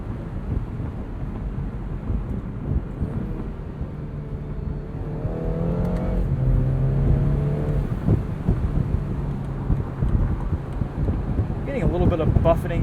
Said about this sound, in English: And this does make some fun turbo noises.